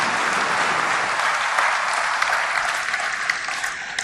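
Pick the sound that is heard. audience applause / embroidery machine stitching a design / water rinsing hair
audience applause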